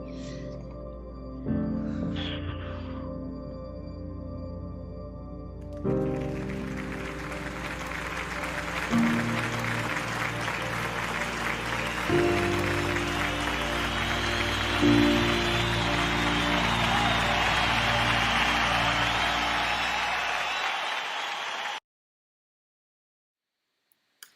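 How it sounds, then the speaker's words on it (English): Audience applause at a school or class event, broadband clapping noise building over a steady musical or hum background for about twenty seconds, then stopping abruptly, with faint talk near the start. "I'm going to add my applause to that."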